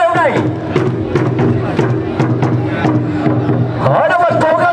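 A crowd at a traditional village wrestling tournament in Vietnam cheers and claps for two wrestling teams, a steady dense roar of voices with bursts of applause, an announcer talking over it throughout.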